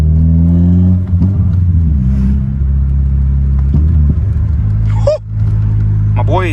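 A Honda car fitted with a custom exhaust rumbles loudly at a deep idle close by, then is blipped twice in quick rising revs near the end.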